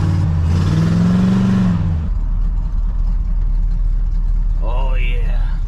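A squarebody truck engine idles loudly and steadily nearby, a low continuous rumble; someone talks over it for the first two seconds, and a brief higher squeak or voice sounds near the end.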